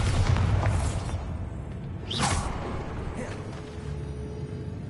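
A Bombarda blast spell in Hogwarts Legacy detonates as a muffled boom with a crackling burst, set against a constant low rumbling game ambience.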